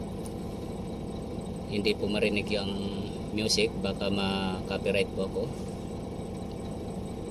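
A HOWO 420 truck's diesel engine idles with a steady low rumble, close and continuous, while someone talks over it.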